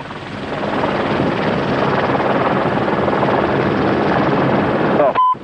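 Steady loud helicopter rotor and engine roar from inside the cabin, continuous throughout, with a brief voice near the end.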